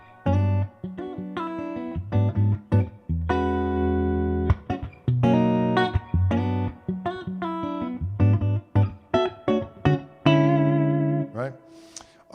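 An electric guitar played through the built-in reverb of a blue Koch signature amp, with plucked notes and chords ringing out and decaying in a reverberant tail, phrases separated by short pauses.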